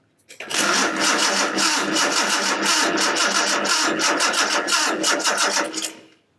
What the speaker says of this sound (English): I'll crank the engine over and we'll see if this flashes